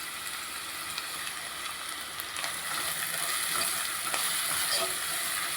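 Carrots fry in a pan for vegetable semiya pulao, giving a steady close sizzle with occasional scraping and stirring clicks from a utensil, alone without talk.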